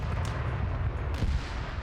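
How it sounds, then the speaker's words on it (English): Tank gunfire from T-55 tanks in an armor-only tank video game battle: dense, continuous low rumbling of cannon and machine-gun fire, with a heavier boom near the end, loud and without talk. "they're taking flanking fire from this group"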